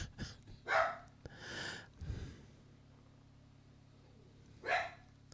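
Charlie the dog lets out several sharp barks close by in a park setting, spaced with quiet gaps between them, with a final bark near the end.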